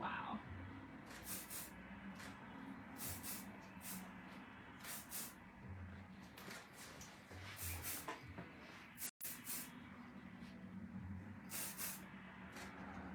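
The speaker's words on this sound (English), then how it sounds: "Don't be afraid to lift up the lengths of your ponytail and hit it with some shine spray." Shine hair spray misted onto a ponytail in quick, repeated bursts, each a short airy hiss, over a quiet room hum with no talking.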